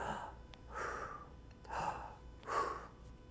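A person demonstrates shallow, compressed breathing with the diaphragm held still: four quick, breathy gasping inhales in a steady rhythm, close and soft, with no other sound.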